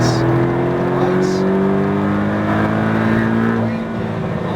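Car engine pulling hard on a coned driving track, a loud continuous drone with rising tones as speed builds, heard from inside with a voice talking over it.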